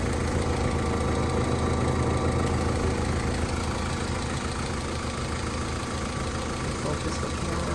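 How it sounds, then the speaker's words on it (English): A steady Honda Civic engine idles close by, a constant low rumble with faint mechanical knocking throughout and no pauses. "So right now I have the engine running"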